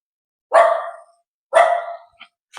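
A dog barks twice, loud and close, with a short pause between, followed by a faint brief yip.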